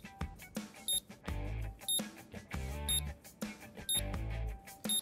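A diagnostic tool in Car Mechanic Simulator 2021 gives short, high electronic beeps at roughly one-second intervals over steady game music, with no talking.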